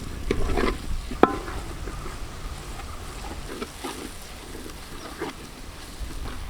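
Onions and tomato are sautéed in a pan for a rabbit roast, with a low, steady sizzle and a few scattered scrapes and knocks of the spoon, one sharp clack early on.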